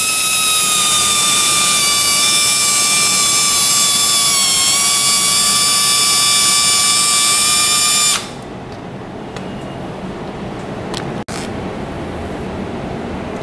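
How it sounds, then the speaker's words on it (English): A massage chair's internal mechanism motor, turned with a flathead screwdriver, runs with a loud, steady whine and harmonic tones for about eight seconds, then stops abruptly, leaving quiet room noise and a brief click. "we need to move the mechanism downward until this plastic piece here is beneath this sensor here."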